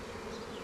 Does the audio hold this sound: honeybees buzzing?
yes